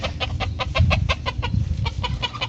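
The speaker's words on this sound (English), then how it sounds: "There's a rooster, there's 2 roosters, there's 3 roosters, there's 4 roosters." Several roosters cluck in quick, rhythmic bursts close by, a rapid run of about a dozen calls over low background rumble, with no talk.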